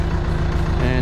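A tractor engine idles at low revs with the 540 PTO engaged, a steady close diesel rumble with a faint whine over it, under brief background talk.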